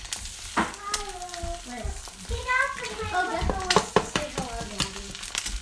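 Extra eggs sizzle and scrape in a frying pan as they are scrambled and stirred for a breakfast hash, with repeated spatula clatters, while an adult and young children talk over the cooking.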